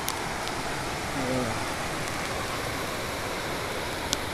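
Floodwater from an overflowing river rushes through farm fields near a bridge, a steady broadband roar heard outdoors throughout, loud and continuous, with a voice speaking briefly over it.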